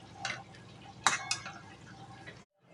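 A spoon stirring sojne data (drumstick) sorshe chorchori in a pan, with a few sharp scraping and clinking strikes against the metal over a soft background sizzle, ending abruptly.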